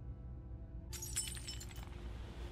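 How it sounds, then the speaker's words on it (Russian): Glass shattering as a character climbs through a window in the horror game Granny 3, a sudden bright crash with scattered tinkling shards over a low hum. "Даже есть звук того, как мы перебираемся через стекла."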